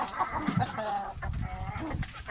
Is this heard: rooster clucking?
yes